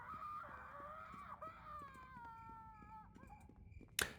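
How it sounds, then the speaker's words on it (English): A drawn-out, wavering scream from the Neverwinter Nights video game rises and then falls, ending in a sharp burst, with faint background sounds. "Some of those scream sound effects are pretty darn convincing"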